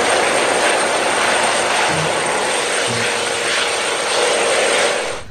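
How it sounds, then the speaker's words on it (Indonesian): Toy helicopter with a spinning propeller, giving a steady, loud whirring drone that holds evenly for about five seconds and fades slightly at the end, with no voices over it. "baling-balingnya berputar teman-teman"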